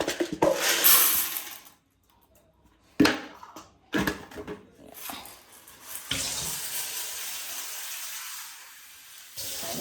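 Tap water gushes into a kitchen vessel to soak dried beans, loud and close, with bursts and pauses before a steadier flow settles in.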